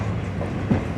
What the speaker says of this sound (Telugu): చెంగాలపట్టు వెళ్ళే లోకల్ ట్రైన్ అండి అది వచ్చేసి